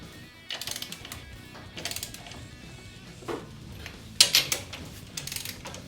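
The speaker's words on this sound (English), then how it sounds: "And always put your ratchet on tighty instead of loosey." A ratchet clicks in short bursts while torquing wheel bolts in a star pattern on a 1968 Dodge Dart, its quiet rapid pawl clicks coming in several separate strokes with pauses between.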